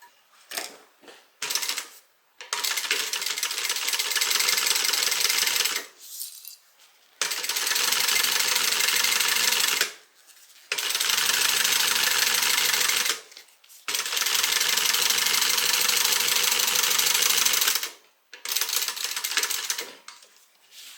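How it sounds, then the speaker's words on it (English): A sewing machine top stitches the side piece of a sling bag through the seam allowance beneath, running in four long steady bursts of several seconds each with short pauses between, close and loud with no talk. "we're going to top stitch on our side piece, catching the seam allowance underneath"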